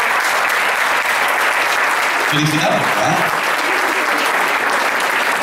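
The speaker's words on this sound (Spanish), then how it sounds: "por supuesto con el aplauso de todos ustedes" Audience applause at a school award ceremony for first- and second-grade students, a steady dense clapping that fills the whole stretch while a voice speaks over it briefly near the middle.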